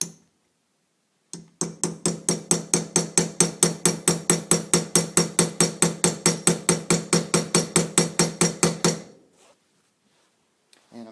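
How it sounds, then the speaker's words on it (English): A hammer strikes a punch to drift a night sight on a Smith & Wesson M&P Shield pistol, giving a fast, steady run of about forty sharp metallic taps, close and loud, after which it falls silent. "I'm sure that hammering is probably pretty loud on camera."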